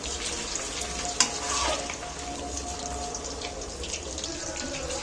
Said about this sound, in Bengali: গ্যাসের ফ্লেম আস্তে করে দিয়ে তবে এটাকে ভাজলে ভালো ভাজা হবে।